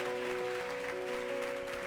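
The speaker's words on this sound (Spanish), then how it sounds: "Vamos por los siguientes 10 segundos a aplaudirle fuerte" A church congregation claps loudly together in a dense, sustained wash of applause, with a steady musical tone underneath.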